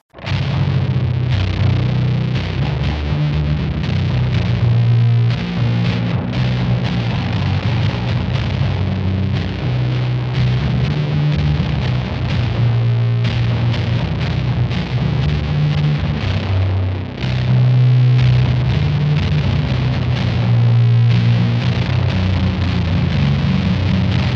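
A loud electric guitar plays continuously through a Fuzzlord Effects Dark Master delay and echo pedal, its notes repeating and smearing into a thick, distorted wash.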